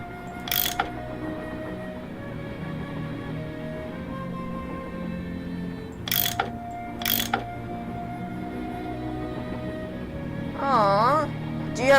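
A tool unscrewing bolts in the Nancy Drew game Last Train to Blue Moon Canyon, heard as a steady mechanical ratcheting and grinding with a few sharp clicks, over a low background hum.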